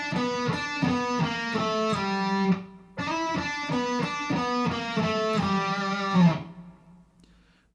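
Electric guitar playing a riff, two loud distorted phrases of chugging notes and slides separated by a brief gap, ending in a ringing decay.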